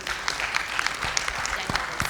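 Audience applause at an international Islamic shariah scholars roundtable, brisk, dense clapping with sharp individual claps popping out, fairly close and steady throughout.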